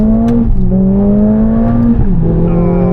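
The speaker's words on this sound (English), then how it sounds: "And it revs so fast." A Mercedes-AMG A45 S hot hatch engine revs hard and steadily, its pitch climbing then dipping as it shifts, loud and close.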